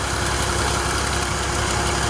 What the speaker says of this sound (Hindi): 135 ट्रैक्टर तो लगी है